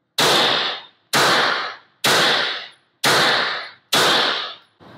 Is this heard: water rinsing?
no